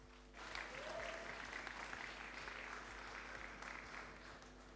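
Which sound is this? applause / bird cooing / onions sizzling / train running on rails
applause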